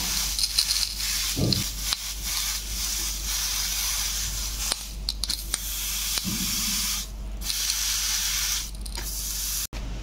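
Gourd-leaf parcels of prawn paturi hiss and spray steadily in a hot pan, a continuous sear with occasional faint clinks.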